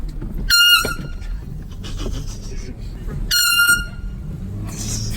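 Two loud air horn blasts go off in a prank, each a blaring, sustained honk lasting about half a second, separated by a few seconds of background noise with people talking.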